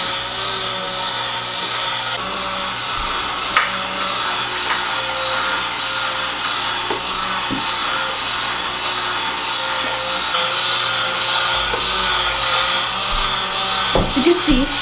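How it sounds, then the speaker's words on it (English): Small battery-driven electric motor in a Motorworks model engine turning pistons and a timing belt, a steady whining mechanical hum with light plastic clicks and ticks, fairly close, with a voice talking at times. "the motor turns the pistons, turns the timing belt, which also turns the timing wheel"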